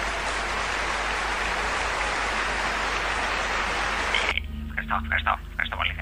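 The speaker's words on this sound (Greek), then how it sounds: "ένα χειροκρότημα για τον Χρήστο που συμφωνεί μαζί μου" Canned applause from a radio parody show, a dense, steady wash of clapping and cheering that fills the first four seconds before cutting off abruptly into quieter studio sound with brief voice fragments.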